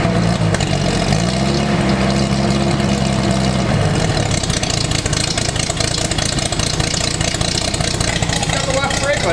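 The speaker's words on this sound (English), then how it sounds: "Good old Chevy 250 in the Land Rover." A Chevy 250 engine fitted in an old Land Rover 109 Series 2A runs steadily and loud after sitting for years, revving unevenly at first and then settling into a rough continuous drone while someone talks over it.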